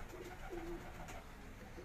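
A salara pigeon, a high-flyer breed, gives one soft, brief coo. It sounds faint and distant over a steady low background hum.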